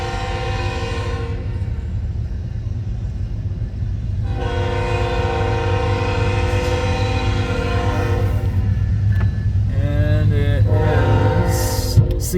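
CN freight train led by locomotive 3294 passing at Ladysmith, Wisconsin, loud and close: a sustained rumbling roar of the engine and rolling cars with a long blaring horn blast that cuts off, then resumes, in winter.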